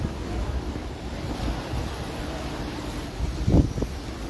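Ocean waves breaking against a sea wall on the coast of Oahu, Hawaii, heard as a steady wash of rough surf with wind noise on the microphone, rising to one louder crash near the end.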